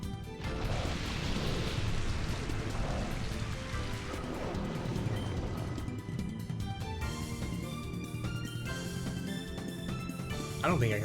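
Steady rain from the Rain Dance move in the Pokemon Colosseum video game, a continuous hiss of falling water that runs unbroken for the whole stretch, mixed with game music and effects.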